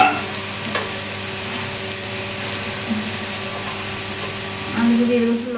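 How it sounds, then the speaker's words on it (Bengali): Potatoes fry in a pan with a steady low sizzle and bubbling under a faint kitchen hum, fairly even throughout with a slight swell near the end. "তার জন্য আলু ভেজে নিচ্ছি।"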